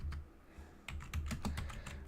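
Typing on a German computer keyboard, a rapid run of close, loud key clicks with thumping keystrokes, slightly quieter at first and then denser and louder.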